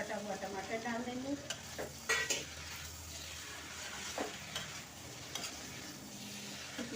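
Chopped tomato is stirred into masala frying in a pan for a restaurant-style mixed vegetable curry. A steady, close sizzle runs throughout, with repeated spoon scrapes and stirring strokes against the pan.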